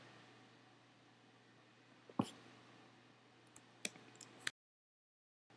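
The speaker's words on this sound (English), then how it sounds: "and then I click save." A few sparse, crisp computer mouse clicks while saving a file, spaced about a second or more apart over a quiet room hum, with no talking.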